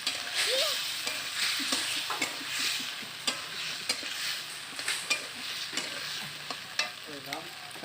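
Water poured into a pan of frying fish curry gives a steady hiss and sizzle with repeated stirring scrapes and small clinks throughout, close and fairly loud, with no talking.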